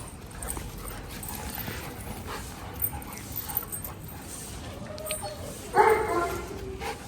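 Large dogs, a German Shepherd and a Labrador at a hostel, give scattered yips, barks and whimpers at moderate distance amid clattering and shuffling, with a louder whine near the end.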